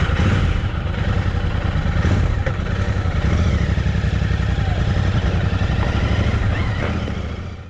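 A motorcycle ride recorded through a helmet-mounted Sena 20S Evo setup, with a loud, steady engine drone and road rumble throughout and no talking.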